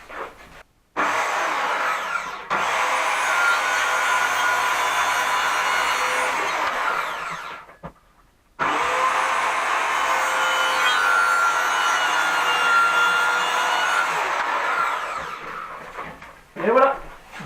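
A circular saw whines loudly through a wood panel in two long cuts separated by a brief pause, harsh and close.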